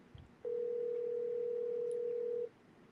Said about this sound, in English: Y'all put a 1 if y'all can hear this phone ringing.